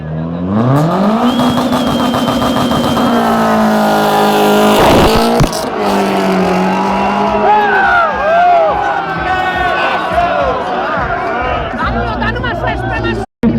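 Audi R8 and Opel Calibra cars race, with loud, sustained engines revving and rising through gears, an excited crowd chattering, and a voice talking over the whole run.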